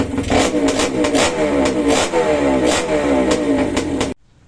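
A freshly restored motorcycle engine with stainless parts, started cold on a single kick, idles loud and close with a steady, slightly uneven mid-range putter that cuts off abruptly near the end.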